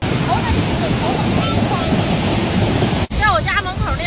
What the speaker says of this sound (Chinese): 北京市的怀柔区也出现了暴雨洪灾